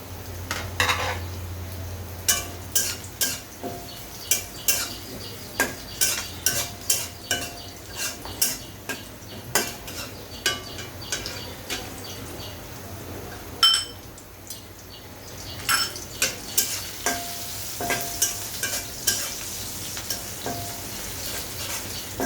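Onions fry with bay leaf, cinnamon, cardamom and pepper in a pan for egg korma, a steady sizzle broken by repeated scraping clinks of a spoon stirring against the pan.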